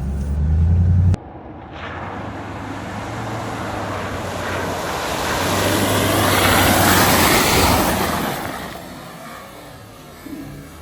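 An off-road vehicle drives through a mud hole with a loud, continuous rushing roar of engine and churned water that swells in the middle and then eases off, after an abrupt thump at the start.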